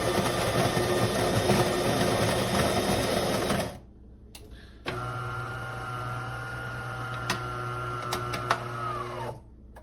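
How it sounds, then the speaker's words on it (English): A De'Longhi Magnifica Start automatic coffee machine makes an espresso: a loud mechanical grinding whir runs for a few seconds, a short pause follows, then a steadier humming pump drone with occasional clicks continues until near the end. "I'm gonna make an espresso."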